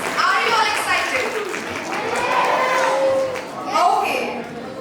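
An audience at a space science quiz competition applauds in a broad, sustained wash of clapping mixed with crowd chatter and children's voices, rising again toward the end.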